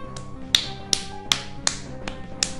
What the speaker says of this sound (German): Ich kann auch klatschen.